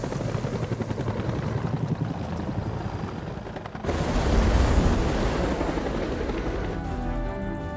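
A helicopter in the horror video game House of Ashes beats and roars with a dense rotor chop, jumping louder partway through and then shifting to a heavier rumble with a game music tone, with no talking.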